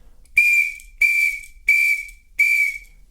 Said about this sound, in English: I'll give you the call on the Samba whistle